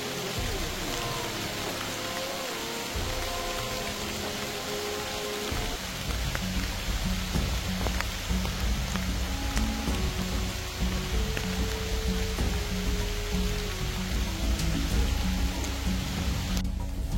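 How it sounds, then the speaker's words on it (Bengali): Heavy rain falling during a storm on a mountain trail in Bandarban, a dense, loud, continuous downpour with a low rumbling wash beneath it, with no talk. "পুরাটা ধরে বৃষ্টি হচ্ছে"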